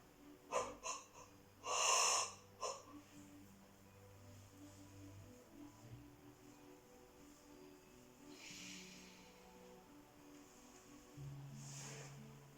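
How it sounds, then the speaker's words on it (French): During yoga relaxation, a few deep breaths and a long yawning exhale sound up close near the start, followed by quieter breathing and faint sighs over a soft background hum. "Laissez venir les bâillements"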